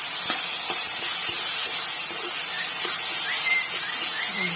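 Chopped onion, green chili and tomato frying in hot oil in a pan, giving a loud, steady hiss and sizzle throughout with a few faint clinks.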